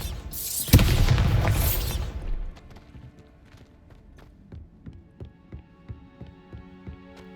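A Bombarda spell blast in Hogwarts Legacy lands as one loud, broadband burst lasting about two seconds, then decays into scattered clatters and small impacts like falling debris.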